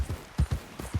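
Hooves of a horse in Red Dead Redemption 2 thud in a brief uneven clip-clop of several soft, close beats against a quiet background.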